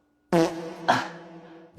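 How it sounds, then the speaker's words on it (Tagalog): A fart sounds up close, one long sputtering burst that fades out, with a second burst partway through. It is loud and heard on its own. "utot ka ba ng utot?"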